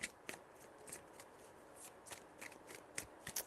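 Tarot cards are shuffled by hand in a quiet room, soft rapid riffling and light taps coming in irregular bursts, faint and close.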